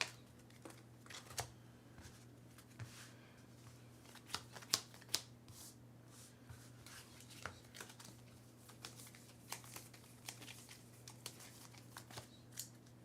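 A deck of Earthborne Rangers board game cards is shuffled by hand up close, giving soft repeated riffles and flicks with a few sharper snaps, fairly quiet over a low steady hum.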